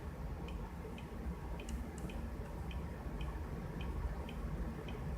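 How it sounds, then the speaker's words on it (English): A faint electronic buzzer driven by a 555 timer circuit gives short, regular ticks about twice a second, soft and steady beneath a low background hiss. "You can see the blinking and the buzzer noise going to faster and faster."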